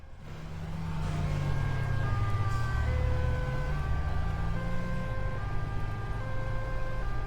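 A wailing emergency siren from the Crash Time 3 video game rises and falls in steady sweeping tones over a low rumbling car engine, loud and continuous throughout.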